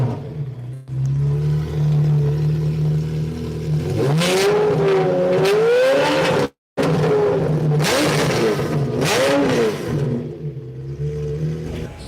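A DeLorean fitted with a Ferrari engine revs at a car show, loud close engine rising and falling through several throttle blips, with a brief cut partway through and crowd ambience beneath.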